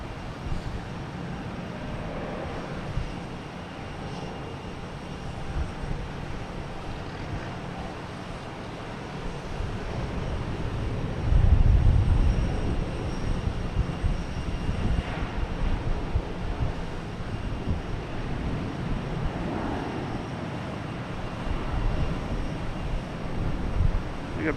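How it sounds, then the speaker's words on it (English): An Etihad airliner takes off at Boston Logan Airport, a distant low engine roar building gradually and holding steady, mixed with wind buffeting the microphone. "we got Etihad taking off"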